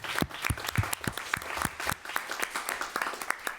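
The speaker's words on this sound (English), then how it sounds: "I would like to suggest that we offer a warm round of applause to Adrian and Lydia for attaining office." Applause breaks out at a Palo Alto citizens advisory committee meeting for newly elected officers, a small room of people clapping steadily with distinct individual claps, moderately close and sustained throughout.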